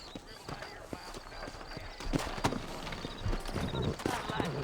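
Horse hooves clip-clop at a steady walking pace in the game Red Dead Redemption, moderately close, under ambient outdoor noise and background chatter.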